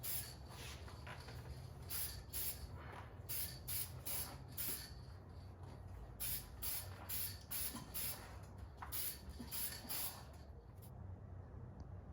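Repeated short bursts of aerosol spray on a 1974 AMC Javelin, about a dozen hissing pulses in an uneven rhythm over a steady low background hum, close and fairly loud.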